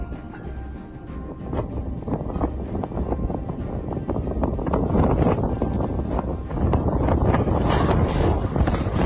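Strong gusting winds from Hurricane Hanna (2020) buffet the microphone near the Mexico–United States border wall, a loud, continuous roar with rushing surges that build toward the end, no voices present.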